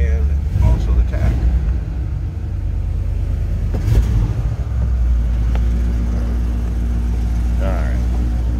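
A 1963 Chevrolet Impala 350 V8 starting, heard as a cranking catch and then a steady low rumbling idle, close and loud, with brief bits of talk over it.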